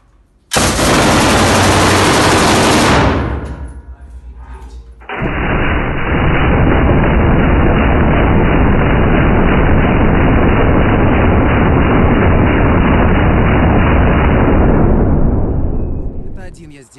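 Firearms fire at a shooting range, including an old Mauser C-96 pistol among guns such as a Maxim, TT, Mosin, Beretta, M16 and RPK; a loud, dense volley gives way to a long, sustained rapid burst of automatic fire that cuts off abruptly.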